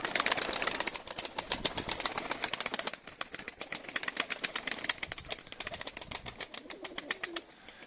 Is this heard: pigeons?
yes